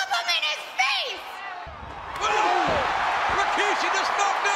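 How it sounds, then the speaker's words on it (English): A wrestler knocks a man down in a WWF wrestling ring, with a heavy slam-like impact amid an arena crowd that rises into loud whoops and cheering while a voice talks over it. "Rikishi just knocked down the commissioner."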